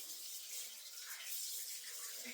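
A blender is rinsed under a running tap after making spring onion pesto, giving a steady, fairly faint hiss of water splashing throughout with no talking.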